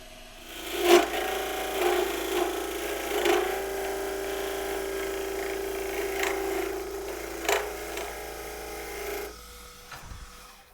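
A skew chisel cuts a spinning mesquite wood bowl on a lathe, giving a steady close scraping hum with several sharp louder catches along the way before it stops abruptly near the end.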